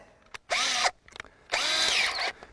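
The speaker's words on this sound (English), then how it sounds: "Put that into our drill." A power drill fitted with a good-quality 5/16 bit runs in two loud bursts, one short and one longer, with a brief quiet gap between them, during work on a 10x10 DIY greenhouse hoop frame.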